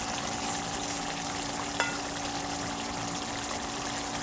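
A pot of chuno (mourola) fish curry with bean seeds bubbling away in a village-style kitchen, giving a steady, even simmering hiss with one brief click partway through.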